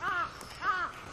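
A crow caws twice, a bit distant, outdoors at dawn during a 5 a.m. walk in Gapyeong, with a slight open-air background hiss.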